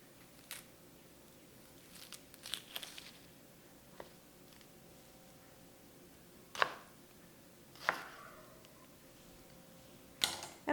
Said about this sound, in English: I just cut my onion in half and then cut it in half again.